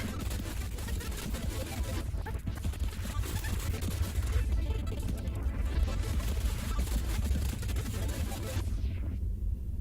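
A ten-second song excerpt looped in an audio editor plays as a dense, continuous music bed at steady loudness, with no voice over it and a brief drop near the end.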